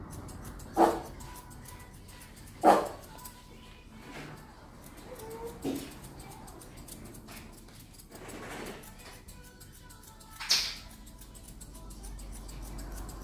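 A shih tzu gives several sharp, separate barks a few seconds apart during a grooming session, close and fairly loud against a quiet room.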